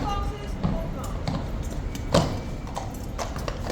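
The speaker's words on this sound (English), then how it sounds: "Off runs Ormond into the distance" A black horse trots away on pavement at Horse Guards, its hooves clip-clopping in a steady rhythm against a busy crowd murmur.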